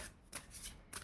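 Tarot cards being shuffled and drawn, three quick papery riffling bursts in close succession, near and clear with no talking.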